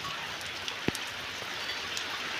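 Rain hisses steadily over Lilapur village in Halvad taluka, a close, even patter broken once by a single sharp knock, with no voices.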